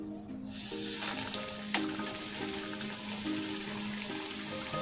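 Catfish croquettes, lumpy patties, frying two at a time in a pan of hot oil, giving a steady close sizzle with small pops and crackles throughout, no talking.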